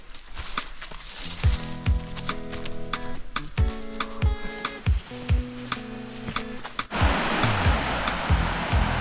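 Falling water from Rona Falls and its river rushes as a broad steady roar, partly masked by sustained tones and sharp knocks, then swells louder and fills the sound near the end.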